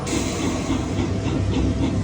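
Train sound effect from a casino slot machine's trains bonus feature, a steady rumbling rail clatter with rhythmic clickety-clack, continuous and fairly loud with no talking.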